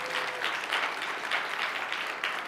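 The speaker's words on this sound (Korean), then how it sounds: "우리 1층께 우리 감사 박수 한번 할까요?" Church congregation at a Friday prayer meeting claps in thanks, a continuous, fairly loud round of applause with slight rhythmic swells and no talking over it.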